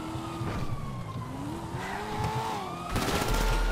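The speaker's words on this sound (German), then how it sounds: "So, das sind jetzt noch mehr Bullenautos." Police cars driving in Grand Theft Auto V, with engine notes rising and falling over steady road and tire noise, and a louder rush of motor sound near the end.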